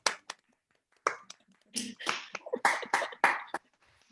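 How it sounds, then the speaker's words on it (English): Webinar participants unmute and clap, producing scattered, uneven bursts of hand claps and sharp slaps from several separate microphones, some close and loud, with brief gaps between them. "Let's see what happens when we all unmute and clap really loud for Kelly."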